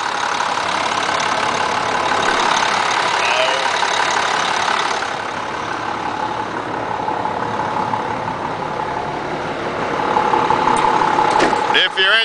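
A truck with a DT466 diesel engine idles close by, a steady rough low rumble with a brief mechanical whine near the end, while someone talks over it.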